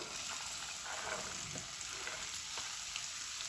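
Okra frying in hot oil with cumin, ajwain and kalonji sizzles and crackles steadily up close, with faint stirring scrapes and no voices.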